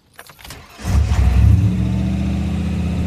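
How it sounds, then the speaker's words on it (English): A car engine turns over abruptly after a moment of near silence, catching with a loud revving roar that settles into a steady, close idle with no voices. "there is the abrupt, grief-cancelling noise of the engine"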